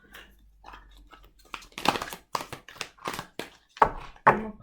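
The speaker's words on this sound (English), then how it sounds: "I feel like I have to learn how to shuffle again." A deck of tarot cards is shuffled by hand, giving a series of soft riffling and tapping bursts at irregular intervals, close and fairly quiet, with brief pauses between shuffles.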